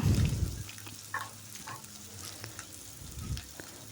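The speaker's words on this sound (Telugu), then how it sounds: "ఉల్లిపాయ ముక్కలు వేసి దోరగా వేపాలి." Sliced onions and slit green chillies sizzle in hot oil in a pan, a steady soft frying hiss broken by occasional scrapes and clinks of a spoon stirring, close and moderately quiet.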